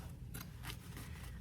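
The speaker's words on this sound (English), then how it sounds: "These are really good fabric scissors." Two or three quick crisp snips of fabric scissors slicing through denim from old jeans, fairly quiet with low background hum.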